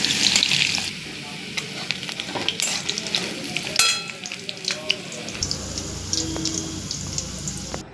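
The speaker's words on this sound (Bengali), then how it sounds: "প্রথমে পটলগুলো ফ্রাই করে নিচ্ছি।" Pointed gourd (potol) pieces frying in oil in a pan, with a steady close sizzle and occasional stirring scrapes throughout, no talking.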